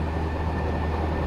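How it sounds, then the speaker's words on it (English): A freight train passing alongside the Rajdhani Express between Ambala Cantt and Chandigarh, heard as a steady, loud low rumble and rush of rolling wagons from inside the moving train. "So another freight train has passed, it's just crossing us."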